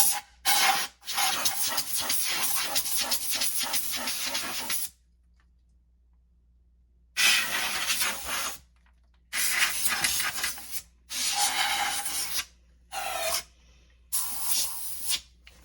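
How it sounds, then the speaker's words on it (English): Compressed air blasting dust off a part of a Dyson cordless vacuum: a long steady hissing blast, then several shorter sharp bursts separated by silence, close and loud. "I like to just use any kind of compressed air, it doesn't really matter the brand"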